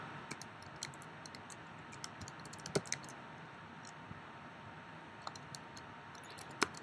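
Command being typed on a computer keyboard for a Raspberry Pi setup, scattered quiet key clicks at an uneven pace with a couple of sharper taps, faint and close with no talking.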